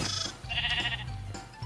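A Minecraft sheep gives a couple of short nasal bleats, loud and close, with blocky game sounds between them.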